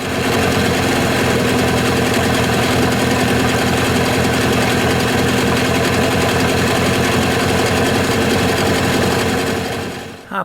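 A Mariner 25HP two-stroke outboard engine runs steadily after a carburetor mixture adjustment, a loud, continuous buzzing drone with a fast even beat, close up and without pause until it cuts near the end.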